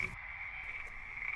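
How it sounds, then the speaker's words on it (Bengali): Frogs call somewhere far off at night, a faint, steady, continuous trilling drone that stays low and even for the whole moment, with no voices over it. "চারপাশে তখন শুধু দূরে কোথাও ব্যাঙের ডাক শোনা যাচ্ছে।"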